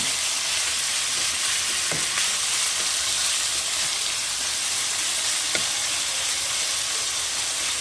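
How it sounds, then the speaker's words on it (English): Chicken pieces, broken apart and left to brown on each side, sizzle and fry in a pan with a steady dense hiss. A couple of faint clicks sit under it and no one speaks. "we're just gonna brown that on each side until they're brown and crispy on the outside"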